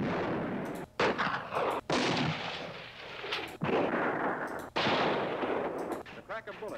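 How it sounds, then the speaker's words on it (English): A string of loud, cracking bullet gunshots rings out with echoing, rumbling tails that overlap between shots, about five prominent cracks in quick succession with no voices. "The crack of bullets."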